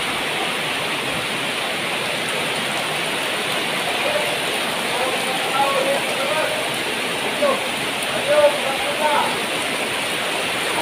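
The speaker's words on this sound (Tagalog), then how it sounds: "mabilis talaga siyang umangat yung tubig dahilan sa malalakas talaga yung ulan" Heavy rain and fast-rising floodwater near a river, a steady broadband rush of pouring water with faint voices and chirps surfacing through it.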